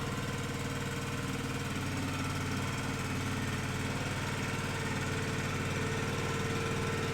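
Split Force 13/20T ride-on firewood splitter with its small engine running steadily as it is driven into a barn, a constant mid-pitched chugging drone with no talk.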